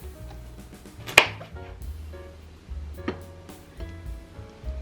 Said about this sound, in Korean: 버섯 썰기를 해줬어요